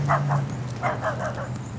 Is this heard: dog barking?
yes